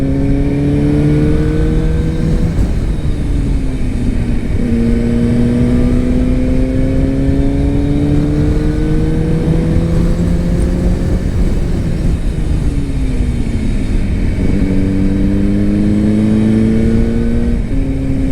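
A Kawasaki ZX6R motorcycle runs in sixth gear, its engine note rising and falling as the throttle is opened and closed, a close, loud, continuous drone over wind noise.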